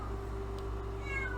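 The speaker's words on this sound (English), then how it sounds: "please excuse my cat, she's being extremely stupid" A female house cat meows indoors, a faint, brief cry over a low steady hum in a quiet room.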